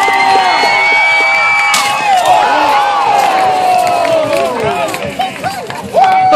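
Spectators at a jousting tournament cheer and whoop loudly as the riders charge, a dense crowd roar with high shouts and children's voices close by, lasting throughout.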